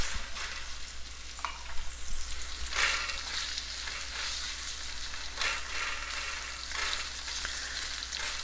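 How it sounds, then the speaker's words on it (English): Curry leaves and dried chili sizzling in a hot pan for a Malaysian Chinese-style okra stir fry, a loud steady crackling fry over a low hum, with a few stirring scrapes and no voices. "I'm going to add my curry leaves. And I'm adding in the dried chili."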